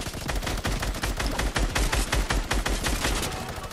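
A minigun blasts in a video game in a loud, unbroken stream of rapid-fire shots, dense and steady throughout with only brief dips in the barrage.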